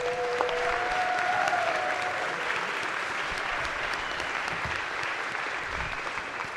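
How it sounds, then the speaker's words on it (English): Legislators and visitors on a state House floor applaud foster care children, a broad, even wash of clapping from a large room that holds steady throughout, with a brief voice at the start. "so if everybody could give them applause, I'd appreciate it."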